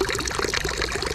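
Water pours steadily into a small dish set out for soaking avocado seeds, a continuous close splashing and trickling with no voices.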